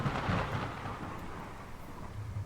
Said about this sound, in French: Bon, l'orage, on a compris.